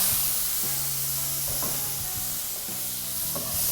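Chinese cooking wine goes into a frying pan of stir-fried sea bass with Chinese bamboo shoots, giving a steady sizzling hiss under repeated scraping stir strokes and clinks at a close, even level.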